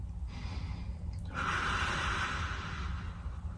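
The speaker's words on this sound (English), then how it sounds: "Belly breathing." Belly breathing during a flat-back core exercise for back pain recovery: a faint, slow breath with a drawn-out airy exhale in a quiet room, no talking.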